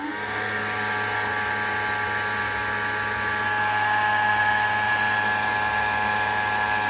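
A 12V car fan heater running on its heat setting gives off a steady whirring hum with a constant tonal whine, close and even in level throughout.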